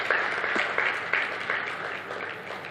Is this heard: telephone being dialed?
no